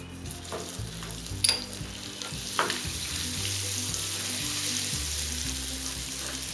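Butter hits hot caramelized sugar in a pan and froths, a close steady sizzle rising and holding after a couple of sharp knocks and stirring scrapes, with no talking.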